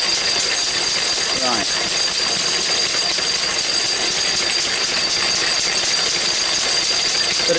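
Lister D stationary engine driving a paint mill grinding chalk, a steady loud mechanical clatter and knocking hum running throughout, with a brief spoken word over it.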